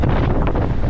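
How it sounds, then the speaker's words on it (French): Strong wind blasts across the microphone at the seaside during a bike outing, a loud, continuous roaring buffet with no voices. "Il y a un vent."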